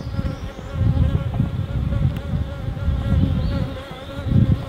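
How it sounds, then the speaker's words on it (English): Honeybees in a full, crowded hive give off a dense, continuous buzzing hum up close, swelling and easing slightly but never stopping, with no voices over it. "we have a pretty full hive, as you can see. A lot of bees there."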